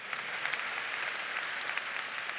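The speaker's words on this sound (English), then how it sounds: "A round of applause for passion for voting." At a university winter commencement, a large audience applauds in an even, continuous wash of clapping that sounds distant and moderately soft, holding steady with no talking over it.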